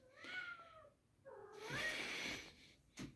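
A cat meows indoors in a room being cleared for a bunk bed, giving two drawn-out, wavering cries, the second louder and longer, close to the listener.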